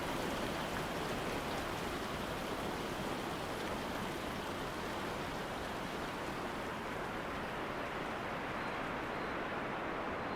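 Steady rain falls in a soft, even patter, a faint continuous wash of drops with no breaks and no voices, fading slightly near the end.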